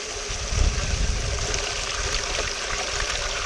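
Creek water flows in a steady, continuous rushing wash, close and fairly loud, with no voices over it.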